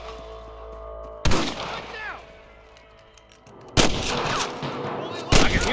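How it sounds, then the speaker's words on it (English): Loud gunfire from the Red Dead Redemption video game, set at Pike's Basin, with three sharp shot bursts spaced over several seconds and rumbling echo trailing after each one. "More gunshots"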